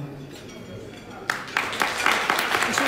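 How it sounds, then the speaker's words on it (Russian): Scattered clapping breaks out after a quiet moment and grows into steady applause from a small crowd at a dog breed award ceremony in Moscow. "Это аплодисменты породе."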